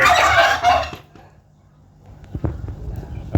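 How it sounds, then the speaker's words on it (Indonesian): Bronze turkey breeding stock on an Indonesian farm, a loud gobbling burst up close at the start, then quieter scattered clucks and low rustling. "Ternak kalkun udah jadi nih"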